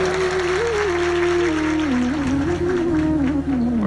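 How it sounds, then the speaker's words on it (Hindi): A crowd at a religious discourse gathering breaks into loud applause, broad and continuous, while a sustained wavering musical tone runs underneath it throughout. "एक बार जोरदार ताली बजाओ।"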